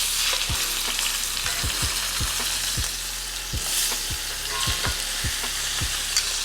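Meat searing in a hot skillet, a loud continuous sizzle and crackle up close, punctuated by a dozen sharp low knocks and pops at irregular intervals, with no voices.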